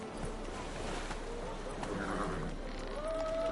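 Roach the horse galloping in the video game The Witcher 3, a steady run of hoofbeats moderately near under faint game ambience, with a voice speaking briefly.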